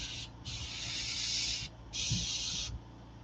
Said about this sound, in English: So I'm just spraying these kind of like erratic.